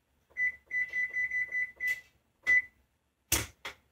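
Kitchen timer beeping while boxed mac and cheese is cooked, a quick series of short electronic beeps followed by a few sharp clicks or taps as it is set, close and clear.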